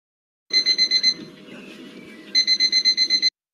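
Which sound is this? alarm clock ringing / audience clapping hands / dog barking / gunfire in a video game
alarm clock ringing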